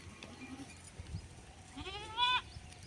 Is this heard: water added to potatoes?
no